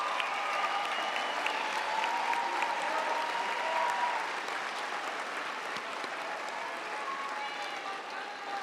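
Sustained, dense applause from a large audience at a university commencement ceremony, steady and loud throughout, with a faint crowd murmur underneath and no clear speech.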